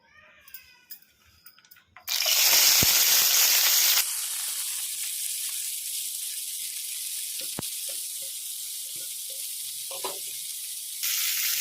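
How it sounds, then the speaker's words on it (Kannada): Chopped hunchikki greens drop into hot oil in a kadai with a loud, sudden sizzle that settles into a steady frying hiss, broken by a few faint stirring clicks. "ಇದನ್ನು ಮೀಡಿಯಮ್ ಫ್ಲೇಮಲ್ಲಿ ಒಂದು 2 ನಿಮಿಷ ಈ ಥರ ಕಲಿಸ್ಕೊಂತ ಫ್ರೈ ಮಾಡ್ಕೊಂಡ್ಬಿಡೋಣ."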